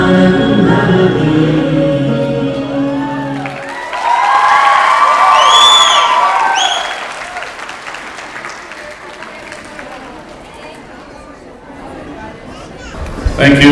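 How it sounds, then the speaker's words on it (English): An audience at a wedding reception breaks into applause and cheering after a colourful performance. A strong burst of clapping and shouts swells midway, then thins into scattered claps and crowd chatter. A voice speaks before it begins. "let's give another round of applause for that colourful performance"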